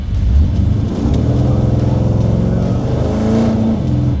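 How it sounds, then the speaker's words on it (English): A classic car engine, a 1951 Ford Custom or 1956 Chevy Bel Air, pulls hard under fast acceleration on a road, its loud, steady droning growl holding strong and rising slightly in pitch throughout. "we'll kind of want to do a bit of a fast acceleration, make sure it's not stumbling or popping"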